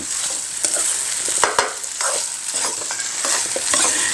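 Rice is stir-fried in a pan with dark soy sauce, a continuous close sizzle punctuated by frequent scraping and tapping strokes of the spatula.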